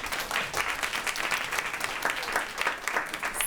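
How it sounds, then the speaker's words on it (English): A conference audience gives sustained applause to welcome Shakuntala Thilsted, World Food Prize laureate and CGIAR nutrition director, a dense, even patter of many hands continuing throughout without voices. "Please give this wonderful woman a round of applause."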